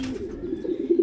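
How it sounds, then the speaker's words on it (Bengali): Pigeons of a flying breed coo softly nearby in a short, low, throaty burst, alone with no talk. "এগুলো আপনারা দেখতে পাইতেছেন ফ্লাইং জোনের কবুতর"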